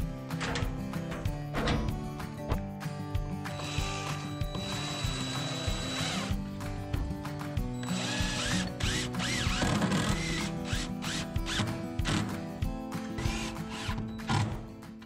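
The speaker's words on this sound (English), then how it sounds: "Mounting bracket is skewered to the wall." Power drill driving fasteners to mount a bracket for a Tempware 7500-watt shop heater onto a workshop wall, bursts of whirring and ratcheting over continuous background hum, fairly close.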